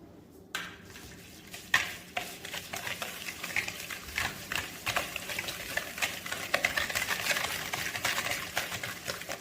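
Egg being whisked into chocolate brownie batter in a bowl, a steady rapid scraping and clicking of the whisk that runs close and continuous for the whole stretch, with no voices.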